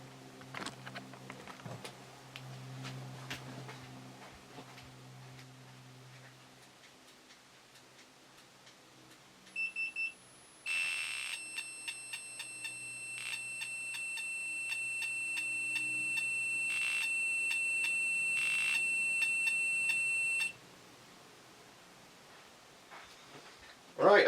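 An East German NVA RWA 72M Geiger counter sounds a steady series of high electronic beeps and ticks from close by, running for about ten seconds as a continuous tone-like pattern, after some earlier quiet handling noise.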